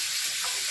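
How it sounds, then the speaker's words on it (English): Diced onions hit hot grease and give off a loud, dense, close sizzle with a hissing, crackling texture throughout the brief moment. "now that we got that grease nice and hot, plenty of grease down in there, take your diced onions."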